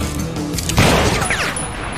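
A loud gunshot bursts out partway through, followed by a crashing, echoing rumble over a steady background of film noise.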